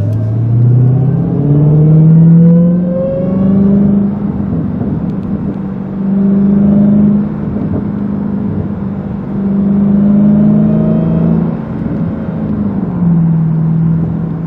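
A Dodge Challenger SRT Hellcat Redeye with its 6.2 liter engine drives along, its deep rumble steady and loud, swelling with throttle surges and falling back between them, alone throughout without any talk.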